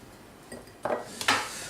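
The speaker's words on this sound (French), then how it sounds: "Pendant ce temps, je vais me couper quelques tomates cerises." Kitchen knife clinking against a cutting board or dish while cherry tomatoes are sliced, a few short, close, light taps and scrapes, with no talking.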